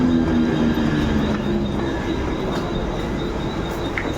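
Passenger train standing at a station bound for CSMT, with a steady low rumble, faint high squeal and background hum of the platform, no speech.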